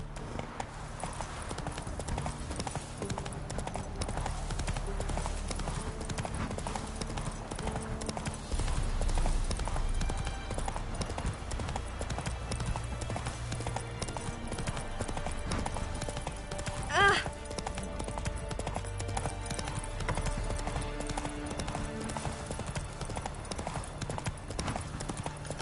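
Hoofbeats of the horse Roach galloping in The Witcher 3, a rapid rhythmic clip-clop running steadily throughout with a brief whinny partway, set under low ambient game sound.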